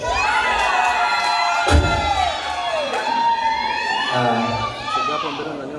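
Wedding guests ululate and cheer in a loud, continuous crowd, with high trilling voices layered over one another and a brief thump partway through.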